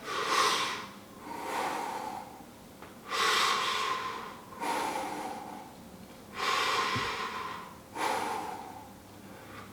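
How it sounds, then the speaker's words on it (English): Someone breathes slowly through the mouth in a seated movement routine, five or six long, airy exhales in an even rhythm, close and alone with no talking. "6 breaths through the mouth"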